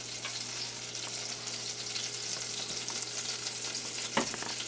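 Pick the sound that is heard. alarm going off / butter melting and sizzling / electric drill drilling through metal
butter melting and sizzling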